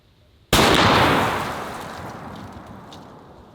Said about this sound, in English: we're going to start with a 660 grain military ball round